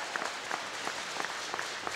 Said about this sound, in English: Let's have a massive round of applause for Benjamin Proctor.